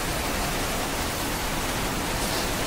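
Heavy rain with rushing floodwater, a dense, loud, unbroken roar of water that holds steady from start to finish with no voices.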